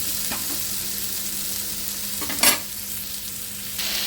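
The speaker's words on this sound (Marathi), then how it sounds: "दोन ते चार मिनटं कोबी परतून घेतला आहे" Cabbage being stir-fried in a pan gives a continuous hiss of sizzling with a few stirring scrapes, one brief louder clatter midway, and no voices.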